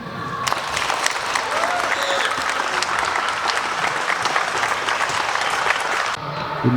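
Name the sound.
applause at a football club signing event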